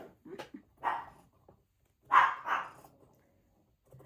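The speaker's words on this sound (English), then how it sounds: "I hear my guard dog again." Guard dog barking in a few short bursts with pauses between, moderately distant, in an otherwise quiet setting.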